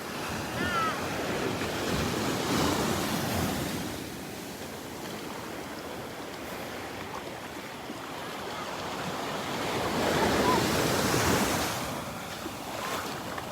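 Little waves break and wash up a Gulf beach at Delnor-Wiggins, a continuous close rush of surf that swells louder near the start and again toward the end, with some wind buffeting and no voices.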